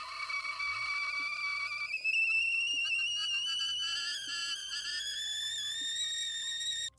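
A tea kettle whistles steadily for about seven seconds, holding a high tone that climbs slightly in pitch partway through; it is clear and fairly loud, with faint low background sounds and no talk.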